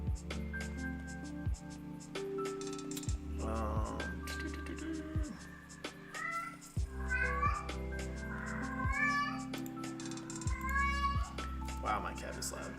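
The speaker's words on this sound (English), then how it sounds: "Wow, my cat is loud." A pet cat meows loudly and repeatedly in a room during a live game development stream, its rising cries recurring across the clip over steady background noise and thumps.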